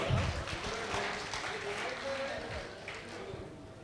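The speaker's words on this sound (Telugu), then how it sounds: "ఒకసారి చప్పట్లు కొడదాం." Applause from an audience at a community gathering, a dense, steady wash of clapping that holds at moderate volume throughout, with voices mixed in.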